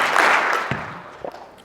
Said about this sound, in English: give me 2 claps for Mike Dunn.